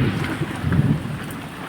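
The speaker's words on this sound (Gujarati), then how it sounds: "જો વરસાદ ચાલુ થઈ ગયો આજ તો" Rain falling over a village during an unseasonal pre-monsoon May shower, with brief hail. It gives a steady, moderately loud wash of low rumbling noise with no voices.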